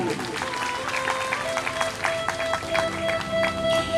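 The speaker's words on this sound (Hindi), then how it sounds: "एक बार ताली बजाए उनके लिए।" An audience at a temple discourse on the Narmada Purana claps in a steady crowd applause for a teacher, with scattered claps over a tonal background hum and a voice speaking now and then.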